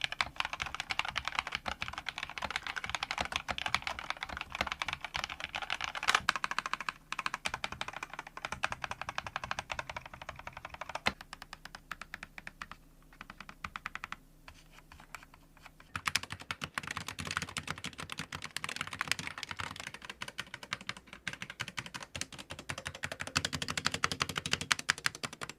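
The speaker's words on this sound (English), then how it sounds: "here's a quick typing test for y'all to hear what the reds on the Logitech sound versus the SteelSeries" Steady typing on two mechanical keyboards, a Logitech G Pro X TKL with red switches and a SteelSeries Apex Pro TKL, with dense, continuous clacking keystrokes up close and short pauses between bursts.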